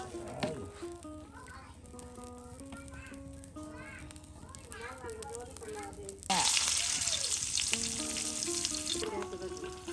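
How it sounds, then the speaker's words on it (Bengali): Fish frying in a pan in a village kitchen, a soft sizzle running under a voice, then a sudden louder burst of hissing partway through, close but fairly quiet overall. "আর এই মাছ ভাজি করা হবে"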